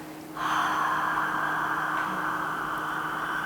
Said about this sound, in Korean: 그때 숨을 내쉬는데 소리를 살짝 내는 거예요.